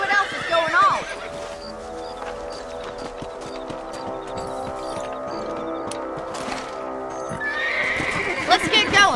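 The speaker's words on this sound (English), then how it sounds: "Let's get back on the horses and see what else is going on." Horses in the video game Red Dead Redemption trotting with steady clip-clop hooves, with whinnies at the start and end, under a sustained musical drone and some voices.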